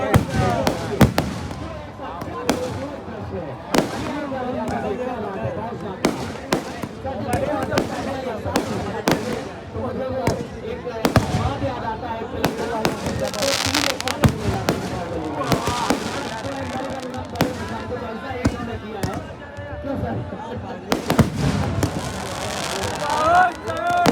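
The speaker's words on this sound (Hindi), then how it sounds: "जबरदस्त आतिशबाजी।" Fireworks burst repeatedly at the Dewa fair (Dewa mela), with sharp cracks and booms in irregular rapid succession over a continuous crowd murmur, some volleys dense and loud.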